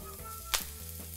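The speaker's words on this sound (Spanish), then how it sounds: "aquí ya el aceite, un poquito, para poner las laminitas" Eggplant slices sizzle faintly in a little hot oil, a soft steady frying hiss with one brief sharp burst of spatter as a slice drops into the pan.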